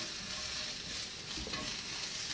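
Chicken of the woods mushroom (Laetiporus sulphureus) with bok choy, salt and pepper fries in a pan, giving a soft continuous sizzle with gentle stirring, close but quiet, with no one talking.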